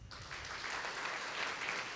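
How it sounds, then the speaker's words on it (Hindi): A roomful of school students clapping for their teachers, steady and fairly faint, heard from a distance as a continuous spread of claps. "एक बार अपने टीचर्स के लिए ताली बजाइए"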